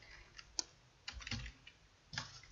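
Soft clicks of typing on a computer keyboard, a few scattered keystrokes and short bursts, quiet and close with no voice.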